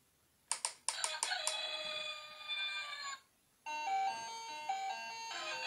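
A farm play set's toy rooster gives an electronic crow: a few sharp clicks, then a bright, tonal, sustained call that stops, a brief pause, and a second melodic electronic phrase, loud and close with no talk.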